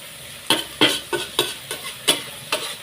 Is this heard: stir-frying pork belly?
yes